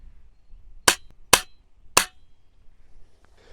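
SNOWPEAK SP500 air pistol firing light Field Target Trophy Green pellets, three sharp, loud cracks spaced about half a second apart, each ending abruptly against a quiet background.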